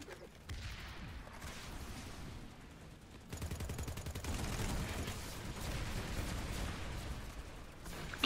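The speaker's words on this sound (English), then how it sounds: "He's shooting at me now." Rapid bursts of gunfire from an online multiplayer shooter game, repeated volleys and automatic fire close and loud, continuing through the clip with little pause.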